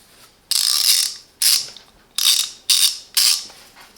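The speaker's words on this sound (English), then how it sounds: "One reversible ratchet with 72 teeth," A Parkside reversible 72-tooth ratchet is worked in five separate bursts, each a fast, close, crisp buzzing click run lasting under half a second, with short silent pauses between.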